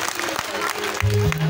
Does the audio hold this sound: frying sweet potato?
no